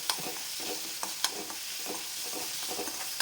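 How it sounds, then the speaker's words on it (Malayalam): Ground dried chillies and shallots frying in a pan, a steady low sizzle with repeated scraping clicks as the mixture is stirred, no voices. "നന്നായി മുപ്പിച്ചെടുക്കാം നന്നായിട്ട് ഇളക്കി കൊടുക്കാം"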